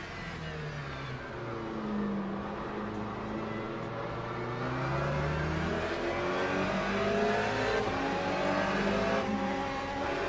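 Race cars in the Le Mans Ultimate sim roar through a multi-class race, engines rising and falling as they accelerate, shift and pass, loud and continuous.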